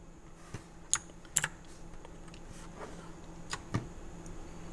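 Typing on an AULA wireless hot-swappable mechanical gaming keyboard, a sparse run of close, crisp key clicks with a few sharper strikes over quiet room noise.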